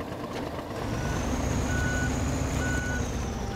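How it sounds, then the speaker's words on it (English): Steady electronic reversing beeps from a truck in the video game SnowRunner, repeating at an even pace over a constant low engine rumble, with no talking. "Oh, it's got a backup noise thing."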